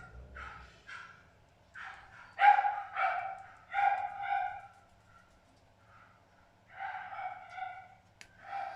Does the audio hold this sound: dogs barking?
yes